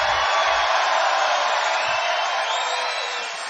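A large crowd cheers and roars continuously at a Trump rally in Rochester, NY, a broad sustained wash of voices that tapers slightly near the end.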